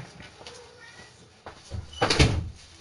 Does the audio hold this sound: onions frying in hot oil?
no